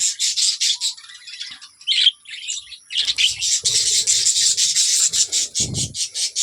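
A pair of budgerigars chirps near their nest with eggs: rapid, bright twittering chatter close by, nearly continuous, with a few soft rustling and scraping sounds underneath.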